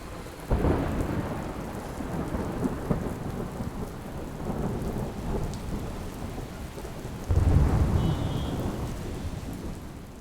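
A monsoon thunderstorm pours heavy rain over a city, a steady dense roar of rain on surfaces broken by rumbling thunder swells, loud and continuous with no voices.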